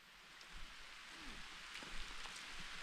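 Rain falling outdoors during a mushroom-foraging trip, a steady soft hiss of drops on surfaces with scattered faint patters, fairly distant and quiet throughout.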